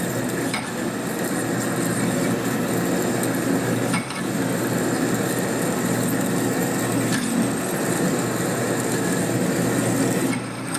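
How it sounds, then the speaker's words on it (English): A sharp drill bores a hole through a 1957 Harley panhead cylinder head with cutting oil, a steady, continuous grinding whine that holds at an even level for the whole stretch, close and alone. "Nice sharp drill's working pretty good."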